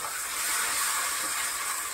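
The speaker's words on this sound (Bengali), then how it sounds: "মশলাটা একটু ভেজে নিয়েছি, এর মধ্যে সামান্য একটু জল দেবো।" Water added to spice paste frying with whole garlic cloves for a chicken curry gives a loud, close, continuous hissing sizzle throughout. No voices are heard.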